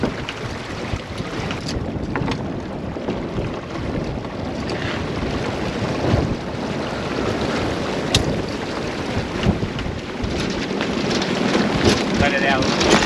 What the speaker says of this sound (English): the wind returned in big gusts, even stronger than before